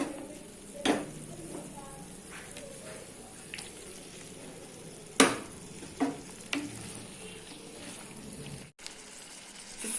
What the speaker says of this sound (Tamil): இப்ப நம்ம இறால் சேர்த்துக்கலாம்.